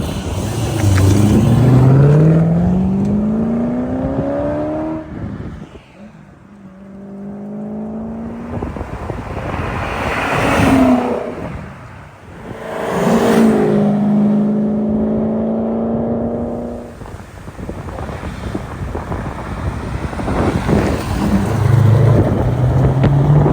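A 1989 Aston Martin V8 Vantage Volante X-Pack with a 7.0-liter big-bore V8 makes repeated loud flybys, its engine note rising as it approaches and falling away as it passes, with several passes in succession and no talking.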